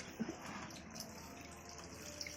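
Clothes are scrubbed by hand in water, a faint, continuous wet swishing and sloshing with small splashes, heard close and without talk.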